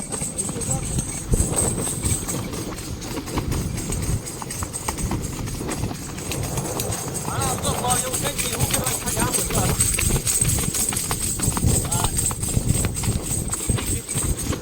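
A mare's hooves clip-clop in a steady, brisk rhythm as she is ridden, close by, with people talking over the hoofbeats throughout.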